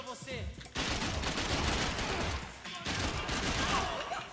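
Gunfire bursts in the Max Payne 3 video game: a loud, dense fusillade of rapid shots that starts abruptly, pauses briefly, then resumes, with faint game sounds before the first burst.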